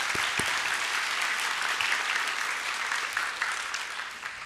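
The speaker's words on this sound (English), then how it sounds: "give our assistant principal a big round of applause" Audience at a Grade 5 promotion ceremony applauds steadily for the assistant principal, dense clapping filling the hall and slowly tapering toward the end.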